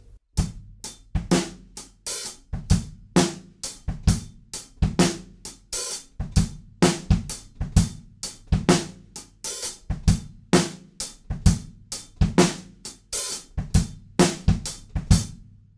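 A drum kit plays a steady swing groove, kick and snare hits driving a bouncing rhythm with hi-hat chips and sizzles between beats, close and loud with no talking.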